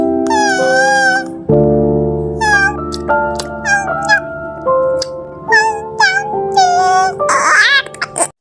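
A cat meowing in the Sakura School Simulator game, a series of loud, close, repeated meows with rising and falling pitch over steady game music, ending in a harsher yowl; no talking.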